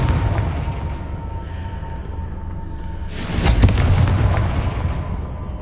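The Confringo blasting spell goes off in Hogwarts Legacy as one loud booming burst about halfway through, followed by a sustained roaring, crackling rumble over continuous game background noise.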